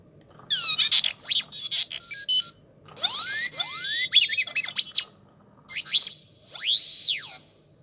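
A homemade R2D2-style radar detector head unit gives its signal alert: a run of bright electronic chirps, whistles and rising and falling sweeps in quick bursts, droid-like and close, with no talking.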